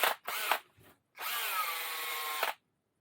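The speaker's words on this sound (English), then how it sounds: "Let's get on with the wire brush and see how it goes." A wire brush spun by a cordless power drill scours a firewood axe head. A few short bursts come first, then a steady, close, whining grind for about a second and a half before it stops.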